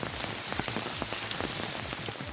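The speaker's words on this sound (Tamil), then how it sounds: "சென்னை வண்ணாரப்பேட்டை ராயபுரம் காசிமேடு தண்டையார்பேட்டை ஆகிய பகுதிகளில் தொடர் மழை பெய்து வருகிறது" Steady continuous rain pours down in Washermanpet, Royapuram, Kasimedu and Tondiarpet in Chennai, a dense, even patter of drops hitting surfaces, fairly loud and close, with no voices.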